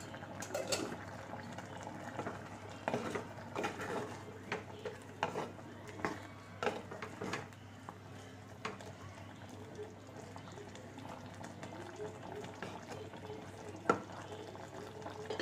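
Vegetable avial simmers in a pot, with soft bubbling and occasional pops and clinks over a steady low hum, faint and close.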